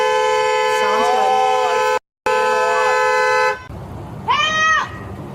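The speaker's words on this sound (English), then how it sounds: "I'm allowed to honk my horn all I want." A car horn blares in a long continuous honk, cuts out briefly, then resumes before a voice shouts over the traffic noise.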